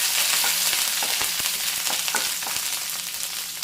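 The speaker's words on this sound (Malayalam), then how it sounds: "ഒന്നിളക്കി കൊടുക്കാം." Ginger, green chili and curry leaves fry in a pan with frying urad dal, a dense, steady sizzle broken by light scraping stir strokes, close and without voices.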